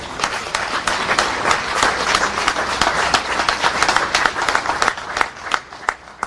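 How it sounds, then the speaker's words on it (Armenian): A crowd at an Armenian political gathering applauds loudly, dense sustained clapping with sharp individual claps standing out, steady and close throughout with no speech. "Մի հատ ուզում եմ մենք, մեզ, դուք ձեզ ծափահարեք շատ բարձր"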